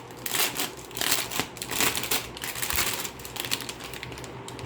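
A Skyloong GK61 60% mechanical keyboard with Gateron Red switches is typed on rapidly, producing a dense stream of crisp, close key clacks with uneven bursts and no voices.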